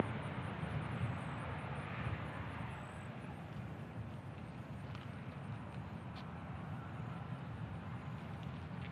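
A Southwest Airlines jet arriving from Denver rumbles steadily as it lands at Nashville International Airport, a broad, continuous engine roar heard from a distance with no talk over it.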